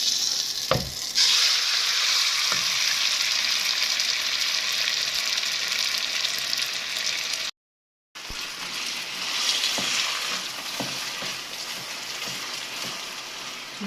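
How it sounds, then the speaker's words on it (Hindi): Spice masala frying in hot oil for aloo paratha, a dense, continuous crackling sizzle close by that cuts out for a moment and then resumes just as strongly. "जी, अब ये ऑयल हो चुका है गर्म। इसके अंदर मैं मसाले को ऐड करूँगी।"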